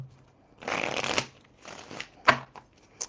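Oracle cards riffled and shuffled close by in two or three quick bursts of papery flutter and slaps, with no talking over them.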